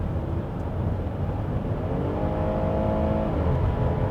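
A Hyundai Palisade flagship SUV in Korean spec, driven at night, with its engine note swelling under acceleration: a steady, close cabin drone whose hum climbs in pitch midway before leveling off.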